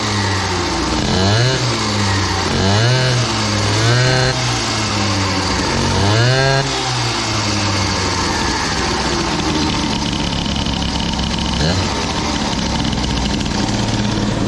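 A Gilardoni Booster 50cc moped's two-stroke engine, running rich with a slightly high idle, idles loudly and close by, its steady putter rising in brief revs a few times before settling back.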